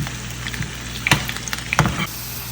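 Taro root (arvi) frying in hot oil, a steady close sizzle with a few sharper pops and spoon scrapes, no talking.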